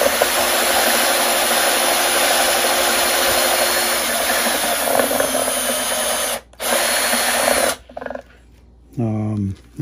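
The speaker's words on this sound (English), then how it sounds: "Boy, that drill gets hot. Hot, hot, hot, hot. It's cutting wood." A power drill whines steadily at high speed as it bores through wood for a ukulele build, then stops, restarts briefly, and cuts out again.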